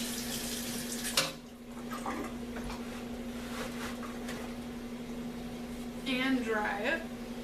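Kitchen tap water running into a sink as a pot used for chopped parsley is rinsed out, a steady close splashing stream with a clunk early on and a brief gurgle near the end, with a low hum underneath.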